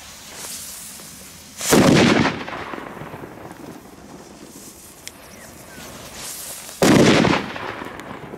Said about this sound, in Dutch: Goeie knallers, man.